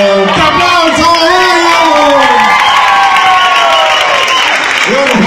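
A loud crowd claps, cheers and whoops for dancers after a tango dance performance, dense and continuous, with shrill voices shouting over the applause throughout.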